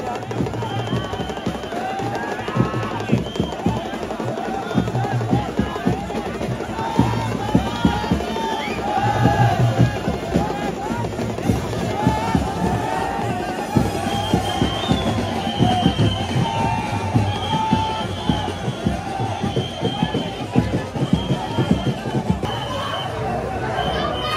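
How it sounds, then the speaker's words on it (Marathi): A huge crowd gathers for the Bahiri Dev procession in Diwale village, a dense outdoor hubbub of chatter and shouts with sharp cracks and bangs scattered throughout, as someone talks over the din. "गर्दी बघा प्रचंड गर्दी झालेली आहे, कंट्रोल नाही होते एवढी गर्दी झालेली आहे इथे"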